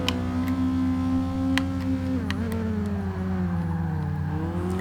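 A 2003 Toyota Celica engine in Forza 6 drones steadily in third gear, loud and close with a strong, even tone that dips briefly mid-way before pulling on again, with no talking.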